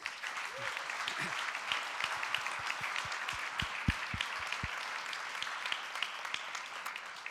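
Audience at a dental forum diploma ceremony applauds for Claire, a sustained crackle of many hands near and even, with a few louder, slower claps standing out and a faint voice early on.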